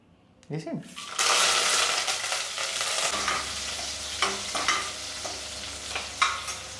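Spices for a crab curry tempering hit hot oil with a sudden loud sizzle that keeps crackling steadily, with a few sharp pops and light clinks of a spoon.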